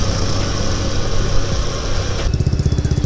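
A small motorcycle engine with a faulty clutch runs steadily close by, its rough idle shifting into a sputtering, pulsing rhythm toward the end.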